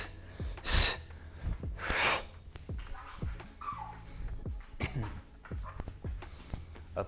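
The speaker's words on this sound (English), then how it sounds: "Make sure you're exhaling on each one of those strikes." Forceful breathy exhales, several in a row, paired with punches during a solo taekwondo drill; loud sharp bursts with dull strike thuds between them, close by with no talking.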